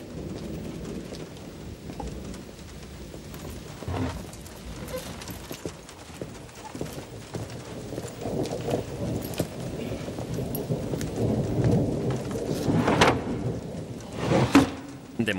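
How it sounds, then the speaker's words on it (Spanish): Heavy rain pours steadily and builds in intensity, broken late by a couple of loud thunder cracks and rumbles, with no voices over it. "La lluvia va a más."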